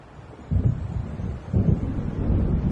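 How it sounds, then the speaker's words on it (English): Low rumbling thunder and gusting wind of an approaching storm in Alan Wake, two swelling rolls of deep rumble over a steady windy backdrop, no voices. "It seems there's a storm coming."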